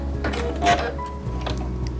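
A Quantum Stylist 9960 sewing machine stitches fabric with a quick, steady mechanical clatter over a low motor hum, close up.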